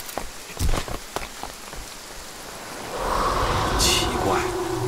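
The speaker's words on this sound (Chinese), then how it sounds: "这么大雨，这么长的，真的好冷啊！" Heavy rain pours as a radio-drama sound effect. A steady downpour hiss starts with a few dull thumps early on, then swells louder and denser midway, with faint voices murmuring underneath.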